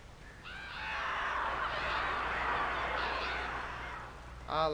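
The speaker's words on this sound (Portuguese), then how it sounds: "Ah, lá os pássaros lá." Crows caw in the Alan Wake video game: a few harmonic calls come early, with another burst at the end, over a steady hum of outdoor ambience.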